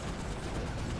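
Dual Vipers guns fire in the video game Ratchet: Deadlocked, making a dense, continuous burst of rapid shots that fills about a second with no pauses and no talk.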